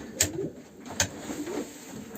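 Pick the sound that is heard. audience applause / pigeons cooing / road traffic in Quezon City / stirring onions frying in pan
pigeons cooing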